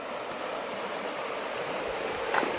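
Fast-flowing water in a clear trout river rushes steadily and close by, a broad, even hiss of current with no talk over it.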